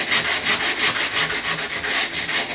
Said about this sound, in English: you're sanding all the glass out on the box